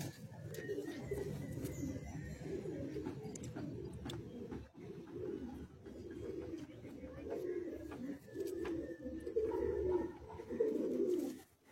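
Many Kalsira Madrasi high-flying pigeons coo together in a loft, a dense, continuous chorus of low throaty burbling that stays loud and close for the whole stretch, with occasional faint chirps and clicks above it.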